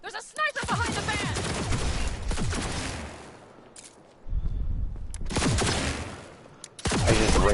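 Rapid sniper and automatic gunfire crackles in bursts during a Cyberpunk 2077 firefight, loud and close, with shouted voices and a quieter lull mid-way before the shooting resumes.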